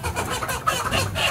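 Sentinel chickens kept for mosquito-borne illness monitoring cluck softly in a brief, faint burst of overlapping calls with outdoor background noise.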